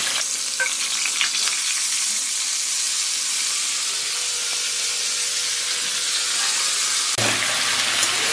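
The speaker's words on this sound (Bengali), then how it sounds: "তো এবার আমি তেলের মধ্যে সব সবজি দিয়ে দিচ্ছি" Washed vegetables frying in oil in a pan for Bengali sukto make a continuous close sizzle and crackle, and a sudden louder burst of spitting comes near the end, with no talking.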